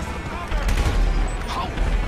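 Gunfire in a GTA V war match on PS4, with a burst of shots and booms about halfway in, close and fairly loud, while a voice talks over the action.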